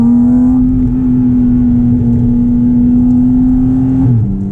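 A Porsche Cayman GT4 RS engine with PDK transmission pulls hard on a road in New Jersey, giving a loud, steady, rising engine note from inside the cabin that drops suddenly near the end as a gear change comes through.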